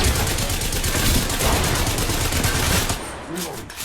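Rapid, continuous gunfire fills the Apex Legends match, loud dense bursts that ease off near the end, while a voice speaks over the shooting.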